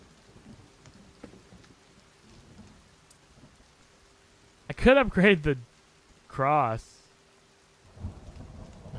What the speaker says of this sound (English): Why is it raining in the house?